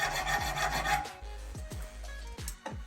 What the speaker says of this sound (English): I'm going to grind it down just a hair more.